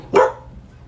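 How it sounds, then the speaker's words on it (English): A dog gives a single sharp, loud bark close by indoors in an apartment, followed by a brief quiet tail with faint room noise. "Stop barking."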